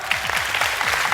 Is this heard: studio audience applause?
yes